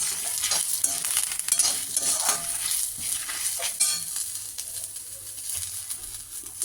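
Coconut and spices roasting in a pan for sambar, stirred steadily with a continuous crackling sizzle and scraping of the spoon, close and moderately loud, with no talk.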